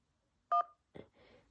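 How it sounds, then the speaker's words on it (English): A phone app plays a single short two-tone dialing beep, clear and close, followed by a couple of fainter clicks and a soft rustle in otherwise quiet surroundings. "So I can make a phone call."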